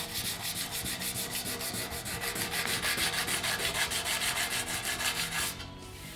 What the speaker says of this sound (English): we're ready for sanding